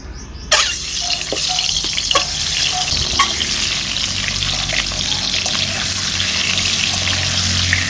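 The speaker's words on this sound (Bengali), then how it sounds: "তেল গরম হয়ে গেছে, এবার আমি ডিমগুলো ছেড়ে দেব।" Eggs dropped into hot white oil in a wok, bursting into a loud, continuous sizzle and crackle with scattered spatter pops and occasional scraping, close and steady.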